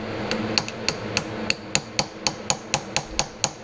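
Hammer taps on a 1966 Ford Galaxie 500 convertible vent window part, a steady run of about a dozen sharp, close metallic strikes at an even rhythm with no voices.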